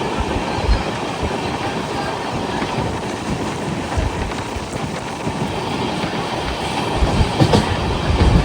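A passenger train runs toward Pamban bridge, its wagons rumbling loudly with a steady clickety-clack of wheels on rails, heard close from on board and swelling slightly toward the end.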